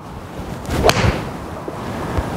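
A single crisp click of a Callaway golf iron striking a ball, fairly quiet and sharp, over faint outdoor background noise.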